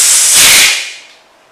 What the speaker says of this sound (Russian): Перестал шипеть баллончик, сразу же останавливаемся.